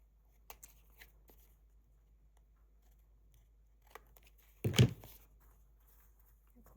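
Scissors snipping excess paper off a neutral-toned accordion junk journal: a few quiet, scattered clips close up, then one louder crisp cut followed by paper rustle, in an otherwise hushed room.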